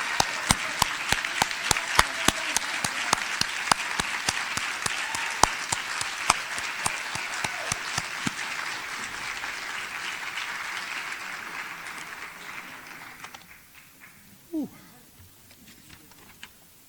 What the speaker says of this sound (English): Let's give a big round of applause to Miss Jermaine White, Mary W. Jackson's Teacher of the Year